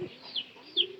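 A pigeon gives two soft coos in quick succession, close by but faint, against a quiet background.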